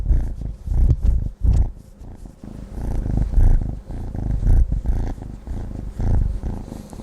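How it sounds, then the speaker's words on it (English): Close, steady purring from a small cat, a continuous low rumbling vibration that rises and falls with each breath, with no talking. "I'm going to show you her purring."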